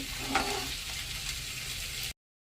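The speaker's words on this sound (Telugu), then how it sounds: "ఇంకో సైడ్ కూడా వేయించుకుందామండి" Fish pieces sizzle steadily in a pan with onions, a soft, even crackling hiss that cuts off abruptly.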